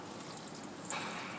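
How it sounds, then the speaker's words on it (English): Water and sediment drain from the fuel filter of a Ford Powerstroke 6.7-liter diesel, a steady, faint liquid hiss with a slight trickle, brief and close. "I'll drain the water and sediment out."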